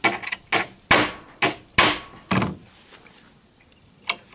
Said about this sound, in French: Il faut sonner les vis comme ça, un coup d'un côté, un coup de l'autre.